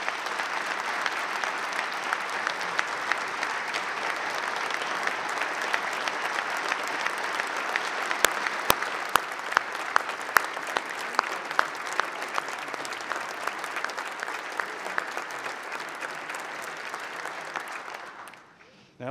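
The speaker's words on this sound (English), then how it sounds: "Let's also give them a round of applause." An audience applauds at the 2013 North Carolina State of the State address, a dense, steady clapping from a large crowd lasting nearly twenty seconds with a few sharp nearby claps before fading out at the end.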